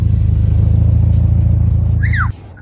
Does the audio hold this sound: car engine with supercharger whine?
yes